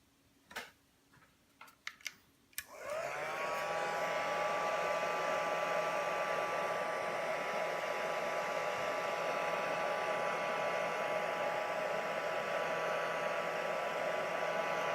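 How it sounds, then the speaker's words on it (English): A hot air gun is switched on after a few small clicks and handling sounds and blows steadily onto resin strips. It produces a loud, constant whooshing roar with a faint motor whine that holds to the end. "I've got my hot air gun just slightly off camera, and I'm just going to apply the air down onto these strips here."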